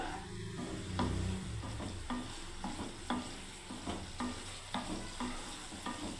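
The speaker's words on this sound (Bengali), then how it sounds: "ব্যাস একটু ফুটে যাক বন্ধুরা, নামিয়ে দেবো।" Paneer posto curry cooks in a pan over a low flame, a soft steady bubbling sizzle with a regular series of spoon stirs and scrapes, close and moderately quiet, with no voices.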